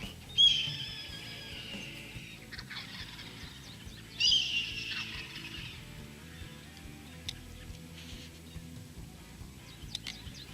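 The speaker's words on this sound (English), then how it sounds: "They got the birds gobbling behind us" Two loud bursts of wild turkey toms gobbling from a short distance, then quieter outdoor background with a few faint distant calls.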